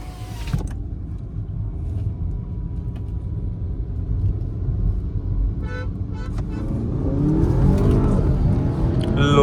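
A horn sounds before a Hyundai Verna Turbo manual and a stock Skoda Octavia accelerate from first gear in a roll drag race; a steady engine drone swells into louder, rising revving toward the end.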